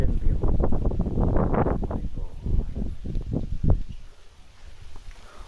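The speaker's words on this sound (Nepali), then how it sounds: "अहिले चाहिँ दामीको हावा उडी आउँछ" Strong outdoor wind gusting against the microphone, with heavy low rumbling buffets that surge and fade, then ease off near the end.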